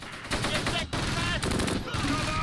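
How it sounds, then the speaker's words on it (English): Mortar shells land in the Close Combat World War II strategy game, loud overlapping explosive bursts and crackling impacts filling the whole stretch with brief dips between blasts. "Mortars are landing decent."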